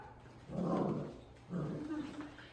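Young weaned puppies play-fight indoors, giving two short bursts of growling whimpers and yips, close but fairly quiet, with soft room noise between them.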